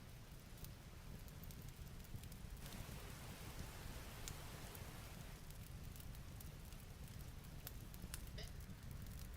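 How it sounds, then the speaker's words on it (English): Soft ambient rain patters steadily while a fireplace crackles with scattered sharp pops, quiet and continuous throughout. "And some rain."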